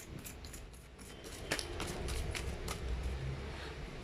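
Tarot cards are shuffled up close in a quiet room, giving soft, rapid riffling and slapping clicks in irregular bursts.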